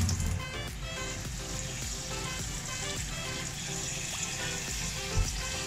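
Hot water pours steadily into a bowl, a continuous splashing rush with no break and no voices.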